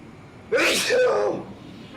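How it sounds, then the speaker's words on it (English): One loud, close sneeze bursts out sharply and then trails off, standing alone with no talk over it. "I'm about to sneeze again"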